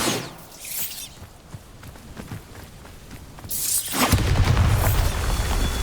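A Bombarda blast spell goes off in Hogwarts Legacy with a sharp shattering burst, followed by scattered crunching debris, then a second heavy booming explosion that rumbles loud and low through the final seconds.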